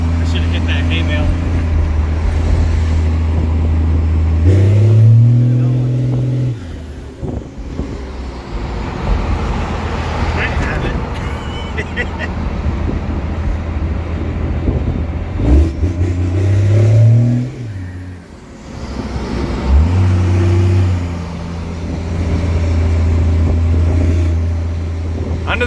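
A Cummins dually pickup truck drives along with steady low engine drone, rising in revs a few times, with road and wind noise and people talking over it inside the cab.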